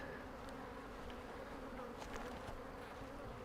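A dense swarm of bees buzzes loudly and steadily, an agitated droning hum close by with no voices.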